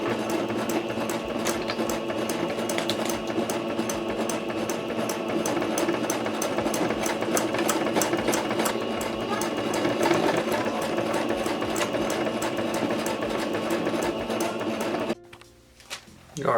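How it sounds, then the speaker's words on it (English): A sewing machine stitches around a grommet loop on a waxed canvas foraging bag. It makes a fast, steady mechanical chatter of needle strokes that runs continuously and loudly for about fifteen seconds before stopping abruptly. "I'm about to put it in the sewing machine and sew around that loop."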